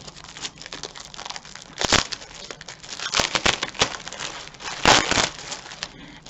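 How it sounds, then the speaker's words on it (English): Loud, crackly crinkling of plastic packaging around a Stamperia paper pad as it is opened, in repeated bursts with sharper peaks near two, three and five seconds, close up and without talk. "here comes the loud crinkling"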